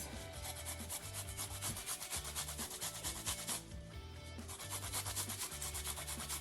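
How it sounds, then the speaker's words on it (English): Fresh ginger is rubbed against a grater over raw chicken for Jamaican curry chicken, a close, loud, rhythmic rasping scrape in quick repeated strokes with a brief pause midway. "I'm now going to grate some ginger on this."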